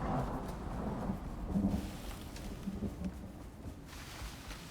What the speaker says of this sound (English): Luckily, it doesn't look like this flash storm is going to last that long.